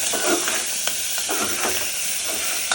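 Onion, tomato and spice masala for a goat mutton curry sizzles in a pan while being stirred, a steady close hiss punctuated by several soft scraping strokes.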